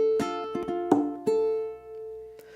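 A ukulele plays bar 3 of the chorus of a song: a few quick strums and plucked notes, then a sustained ringing chord that slowly fades. It is close, fairly quiet and has no voices.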